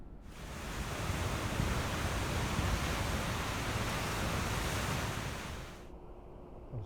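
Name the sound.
water flowing out through an opened gate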